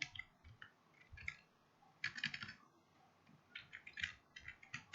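Quiet, scattered bursts of computer keyboard typing as code is entered, soft clicky keystrokes arriving in short clusters with pauses between, faint and close against a hushed background.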